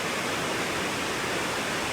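A large river after rain runs fast and full through rapids in Australia, a steady dense rush of water with no pauses, close and constant throughout.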